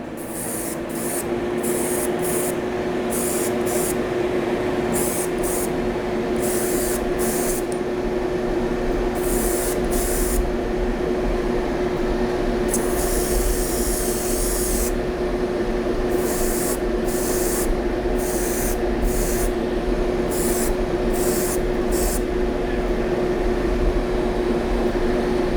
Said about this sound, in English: Might as well finish that little bit that's in the airbrush